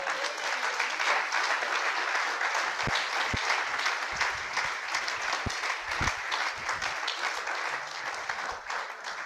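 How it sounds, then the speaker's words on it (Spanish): A church congregation applauds at a Spanish-language worship service, sustained dense clapping from many hands that holds steady for several seconds before easing slightly, with no voice above it. "Dale un aplauso al Señor."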